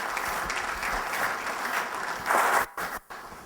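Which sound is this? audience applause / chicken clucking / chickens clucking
audience applause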